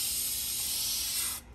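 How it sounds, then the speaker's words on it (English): A close, steady hiss of spray paint from a can coats a model Chevrolet Corvette Z06 car body without primer, running for about a second and a half before cutting off. "So we're going to go ahead and keep spraying here."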